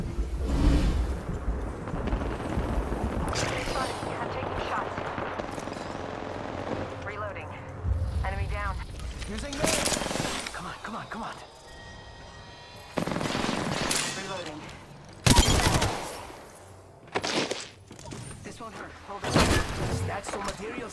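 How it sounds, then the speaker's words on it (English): Bursts of automatic and single-shot gunfire from a battle in the video game Apex Legends, loud and close, arriving in clustered volleys with short gaps, with voices talking now and then. "Shots."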